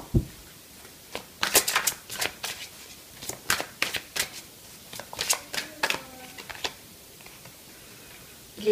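Tarot cards are shuffled close by in quiet, quick bursts of crisp riffling and soft slapping, repeated in short irregular runs.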